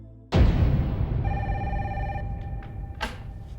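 A telephone rings in a quiet room, one sharp electronic ring sounding close and clear, followed by fainter clicks and a second burst as it keeps going.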